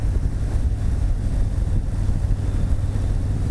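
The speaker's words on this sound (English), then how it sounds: "The wind from the side is not bad because you're pushing around a 900-pound motorcycle" Wind buffets a rider on a 900-pound touring motorcycle with a fixed batwing fairing, a heavy, low rumbling roar against the microphone that pulses unevenly and continuously.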